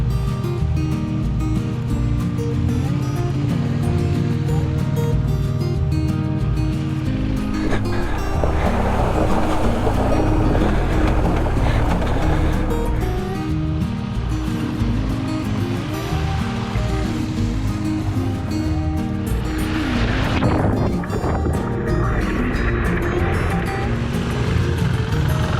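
Adventure motorcycles ride through the Beaver Pond water crossing on the Colorado Backcountry Discovery Route south from Steamboat Springs. A loud engine drone runs throughout, with bursts of splashing and churning water rising in two surges.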